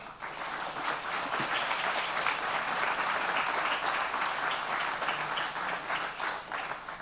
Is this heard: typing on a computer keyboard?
no